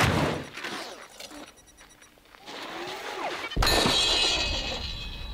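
Guns held by robots in a game fire in bursts of sharp shots with crashes and impacts, loud and chaotic, with brief quieter gaps between volleys.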